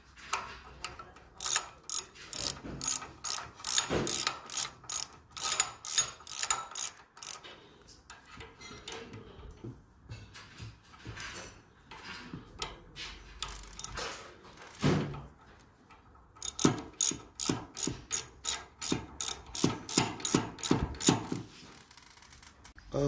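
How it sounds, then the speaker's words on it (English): Brake caliper bolts on a 1967 Chevy Impala convertible being tightened with a 3/8 Allen key, giving rapid ratcheting clicks in long bursts with short pauses, close and fairly loud. "Get you a 3/8 Allen and start tightening these up."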